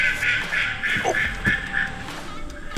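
Ducks quack in a busy, overlapping chorus, fairly close, at a public boat ramp, with a brief exclamation from a person near the end.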